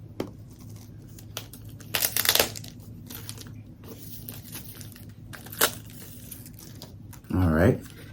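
Wrapping paper on a fragrance package crinkles and tears in short bursts while a sticker is peeled off. A louder rustle comes near the end, and a person talks intermittently.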